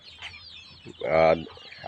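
A short, close clucking call from a native deshi chicken, preceded by softer scratchy rustling and faint background noise.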